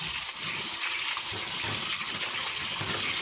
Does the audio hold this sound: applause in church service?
no